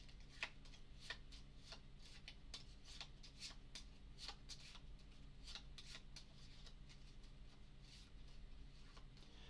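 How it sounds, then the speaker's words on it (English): Arkham Horror playing cards are shuffled in quick, crisp riffles, a steady run of soft snapping bursts heard close up and alone against a quiet background. "Then with these 3, we will shuffle them."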